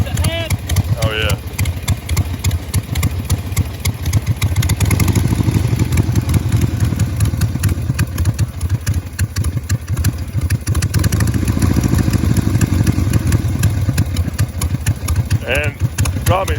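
A Harley Roadster XLS1000 motorcycle engine from a 70s chopper build idles with a steady, rough, close-up chug and rattle, running continuously while someone talks over it at times.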